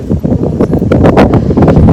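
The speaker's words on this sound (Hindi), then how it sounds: "बहुत तेज़ हवाएं चल रही है" Strong wind blusters loudly across the microphone in uneven gusts, with a rough, buffeting roar close up and no voices.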